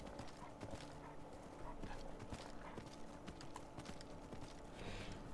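A horse in Skyrim trots along with steady, rhythmic clip-clop hoofbeats, near and continuous over a low background of game ambience.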